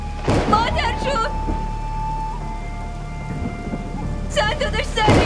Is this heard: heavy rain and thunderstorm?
yes